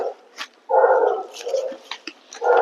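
A dog barks in several close, loud bursts, with short gaps and a few whimpery yelps between them. No one speaks over the barking.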